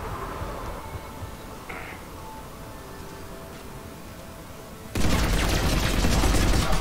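Mass Effect 3 combat with a heavy-recoil gun, a low rumbling backdrop giving way to a sudden loud burst of rapid, sustained gunfire near the end.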